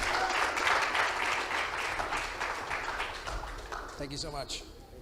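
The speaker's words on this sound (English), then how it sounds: "Give them a round of applause." An audience applauds a panel on Bitcoin adoption in Latin America at a conference, with a dense, sustained wash of clapping and some cheering that fades gradually toward the end as a voice starts to come through.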